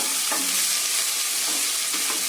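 Coriander leaves sauté in a pan over medium flame, a constant loud sizzle and crackle with faint stirring strokes repeating underneath, no voices.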